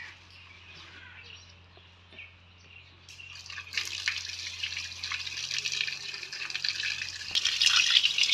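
Fish being washed under running tap water in a sink, a soft steady splash that swells louder partway through, with faint birdsong in the background.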